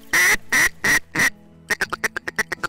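A duck caller imitates a black duck with a call, blowing four long, loud, nasal quacks and then a quick run of shorter, clipped quacks, close and alone.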